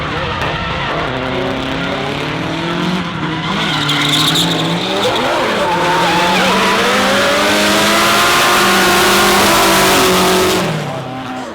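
Nissan S14 and S13 drift cars scream past in a chase run at a D1NZ Pro-AM round in Taupo, engines revving high and climbing, with tires squealing as the loud pass builds and then fades.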